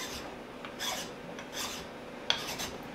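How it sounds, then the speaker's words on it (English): A fine file shapes a briar pipe with soft, close rasping strokes that come in an uneven rhythm. There is one brief sharp tick, and no one speaks. "this is a pretty fine file that I'm using now, so when I'm done filing"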